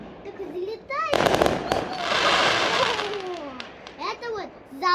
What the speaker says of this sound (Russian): Это вот золотые фейерверки, Эрика.